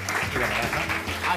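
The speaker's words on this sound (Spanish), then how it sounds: "fuerte el aplauso, por favor" Live audience applause following a magic trick, a dense wash of clapping that stays steady and fairly loud, with talk mixed in underneath.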